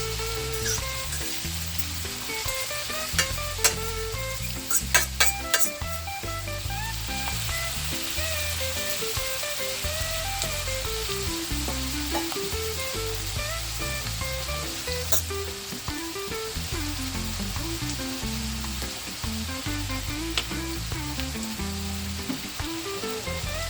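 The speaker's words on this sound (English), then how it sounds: "Now the onion and garlic is sauteing a little bit." Onion and garlic sauté in a hot pan for Jamaican bully beef, giving a steady, close, continuous sizzle and crackle with a few sharper pops and spoon clatters early on.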